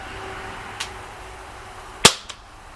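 Gamo MP9 blowback CO2 airgun firing over a chronograph: a faint early pop, then one sharp loud crack followed by a quicker, softer snap, all isolated against low background hiss.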